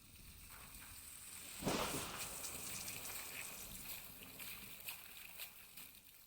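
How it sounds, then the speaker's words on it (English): A water hose sprays to rinse off a board, a steady hiss of spraying water that swells into a louder burst near the start and then runs on evenly under background noise. "Hand me the water hose, Shish Kebab."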